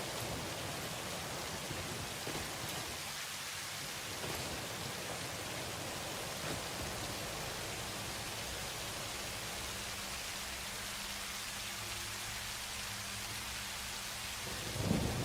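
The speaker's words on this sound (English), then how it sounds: "Oh, you're saying just reduce the rain sounds." Steady rain and rolling thunder fill the background of a game stream, a dense continuous wash of rainfall with low rumbles throughout, no voices.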